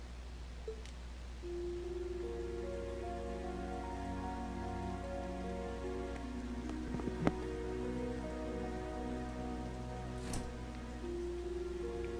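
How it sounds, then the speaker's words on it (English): Light sprinkling rain falls steadily in the video game Trails of Cold Steel III, a soft continuous patter over a sustained musical drone with no talk. "Looks like it's only sprinkling, but still, I'm glad I brought this umbrella."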